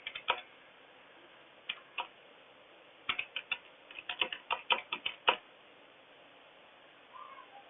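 Typing on a computer keyboard, with sparse single key taps followed by a quicker run of clicks, close but quiet over a soft background hiss.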